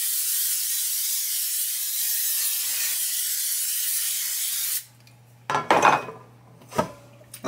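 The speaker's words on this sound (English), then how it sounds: "So I am going to go ahead and spray this with some Pam." Pam cooking spray blasting into a cake pan: a long steady hiss of about five seconds up close, then a few short clatters and knocks as the pan is handled.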